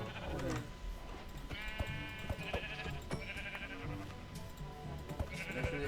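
Sheep bleat repeatedly in a survival video game, several wavering calls rising over steady game ambience and footstep-like clicks, loud and close.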